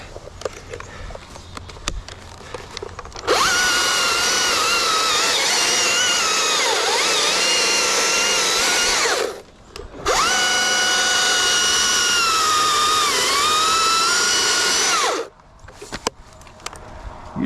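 A saw makes a break cut through a dead tree branch in two long, loud, steady whining runs separated by a short pause. The pitch sags in the middle of each run as the blade bites, and no one speaks.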